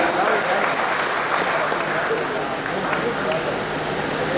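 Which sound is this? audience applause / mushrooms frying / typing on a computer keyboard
audience applause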